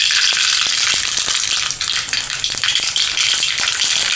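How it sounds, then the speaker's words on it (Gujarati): Mustard seeds crackle in hot oil as a tempering for a tomato curry, making a loud, continuous sizzle peppered with frequent sharp pops close to the pan. "હવે રાઈ ને તે મસાલો તતડી ગયો છે।"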